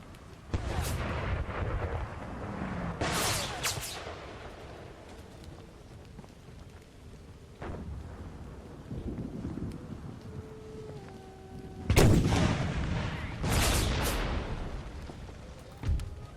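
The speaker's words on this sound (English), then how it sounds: "Oh, I love watching that artillery come in." Artillery in the Empire: Total War American Civil War game, heavy booming shots and impacts at irregular intervals over a windy, rumbling battlefield ambience, with a few distant cannon blasts clustered near the end.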